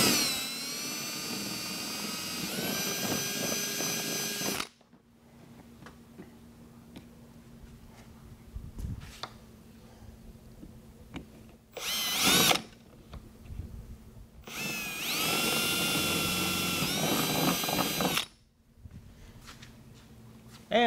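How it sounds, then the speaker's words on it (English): A power drill with a 29/64 bit boring through the insulation between two layers of a bait livewell, in three loud whining bursts separated by quiet pauses with faint handling clatter. "So we take a drill with a, this is a 29/64 bit."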